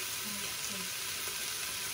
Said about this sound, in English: I'll also fry now the pimiento.